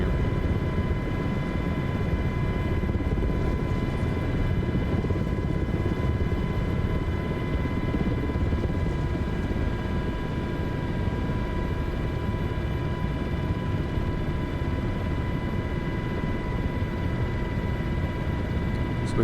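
Helicopter coming in to land at a Manhattan heliport, a loud continuous rotor and turbine drone with steady whining tones, heard close from inside the cabin without a break.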